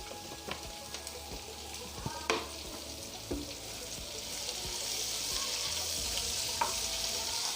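Capsicum frying with about two tablespoons of oil in a pan for a chicken vegetable macaroni, producing scattered clicks and stirring knocks that settle into a steady, hissing sizzle growing slightly louder toward the end.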